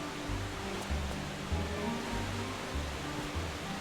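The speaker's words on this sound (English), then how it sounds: "I love the waterfall here too." Steady broadband rush of a waterfall in the jungle level of the video game Tomb Raider III, a continuous even wash of falling water with a faint low pulsing ambience beneath, no voices.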